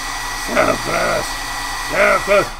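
A hair dryer drying paint on an art journal page, blowing with a steady hum throughout while a person talks over it.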